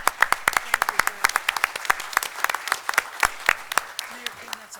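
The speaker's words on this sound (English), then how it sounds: "we should all applaud him if we're going to applaud him" A small committee-meeting audience applauds the township gatekeeper, with scattered individual claps close by forming a brief round of applause while voices murmur underneath.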